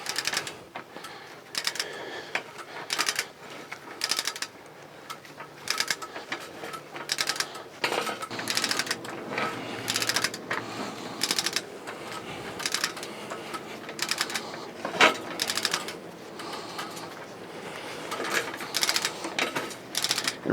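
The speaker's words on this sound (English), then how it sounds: "it actually cuts the pipe and you'll feel it drop down in the hole." A pipe tapping machine cutting through a pipe gives off continuous grinding and ratcheting mechanical noise with irregular metallic clicks and knocks, close by and fairly loud, running steadily for the whole stretch.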